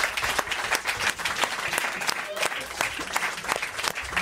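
A studio audience on a French radio show claps steadily throughout, dense and sustained, with a few voices faintly mixed in.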